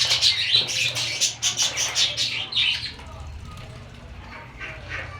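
Newly arrived birds in an aviary reserve give chirps and coos, with a bright twittering burst and rustling in the first three seconds that settles into quieter, sparser calls, all close by.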